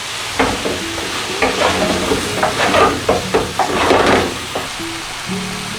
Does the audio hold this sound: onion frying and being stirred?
yes